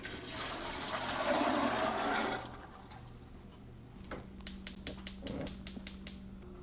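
Water runs loudly into a boiler pot for about two seconds before stopping, followed by a rapid series of sharp clicks, likely from a stove igniter.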